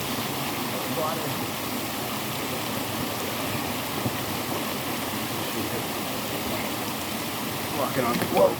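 A stream rushes over jagged rocks near a waterfall outdoors, making a steady, close, full hiss of flowing water that holds without a break throughout, with a slight swell near the end.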